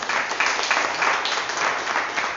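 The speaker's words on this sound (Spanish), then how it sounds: "Denme un aplauso al Señor" A church congregation breaks into steady, moderately loud applause, many hands clapping together in a continuous patter with faint voices underneath.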